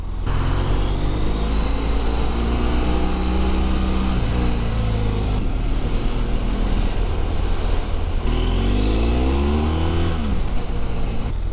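A BMW F700GS motorcycle rides along, its engine rising and falling through gear changes with loud wind rush, then easing off as it brakes to a stop, no talking.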